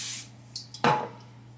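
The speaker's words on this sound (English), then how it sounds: "I'm just going to spray the back of my spoon again" A short hiss of cooking spray onto the back of a spoon, a quick burst at close range followed by brief faint spritzes, with no talking.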